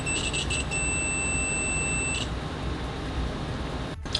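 A UNI-T UT120C multimeter's continuity beeper gives a faint, thin tone in a few short chirps, then one steady beep of about a second and a half, low under background hiss, then stops.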